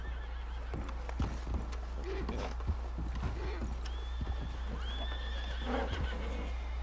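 Horses in the video game Red Dead Redemption 2 whinnying and neighing, with hooves clip-clopping beneath them, several calls rising and falling over a continuous low background hum.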